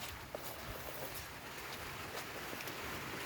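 Steady rain falling, a dense even hiss of drops with no pauses and a few faint taps on nearby surfaces.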